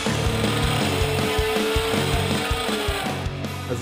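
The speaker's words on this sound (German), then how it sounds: "Lass uns die Kreissäge nehmen. Ich glaube, das geht da viel schneller mit." A circular saw cutting wood while building a small garden shed: a steady motor drone with a faint whine, broken by repeated low knocks and thumps as the blade works through the board, close and loud.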